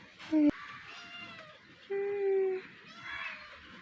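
A cat meows several times, with short, drawn-out tonal cries separated by pauses and a faint click early on.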